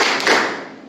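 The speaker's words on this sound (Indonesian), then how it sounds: "Tepuk 2 kali." Students in a classroom clap hands in unison, a couple of loud, close group claps that blur together and then trail off into the room.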